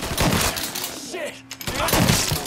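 Gunfire in the video game Mafia 3, bursts of rapid shots crackling close and loud at the start and end with a brief lull between, as a character shouts over the shooting.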